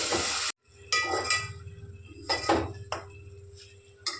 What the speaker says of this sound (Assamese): এতিয়া মোৰ বিলাহীখিনি ভজা হৈ গ'ল।